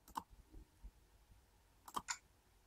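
Sharp clicks of a computer mouse on a Windows 7 PC, two quick pairs separated by a short pause, close and fairly quiet in a still room.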